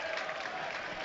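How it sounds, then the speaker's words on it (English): Light, scattered applause from home football supporters as the Aldershot Town goalkeeper takes his position at a Maidenhead United match, a thin, distant patter of clapping with low crowd murmur. "gets a smattering of applause from the Shots faithful."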